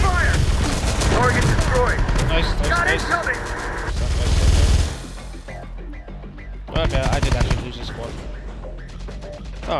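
Heavy automatic gunfire and explosions in the Terminator Dark Fate Defiance video game, with a Humvee under fire. Dense bursts come loud and close, broken by a short lull before shooting resumes, with radio voices in the mix.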